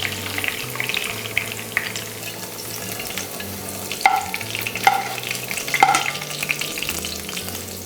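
Fried chicken is lifted from hot oil into a strainer: a continuous oil sizzle with soft stirring and scooping, and a few sharp metallic clicks near the end.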